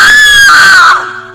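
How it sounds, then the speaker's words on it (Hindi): Woman's scream as a horror story sound effect: one long, loud, high wailing shriek that slowly drops in pitch, then fades into a low echoing tail. "सिर्फ मेघना की चीख सुनाई देती है"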